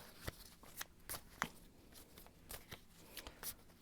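Tarot cards are shuffled in quick, crisp riffling bursts, close and fairly quiet, with no voices.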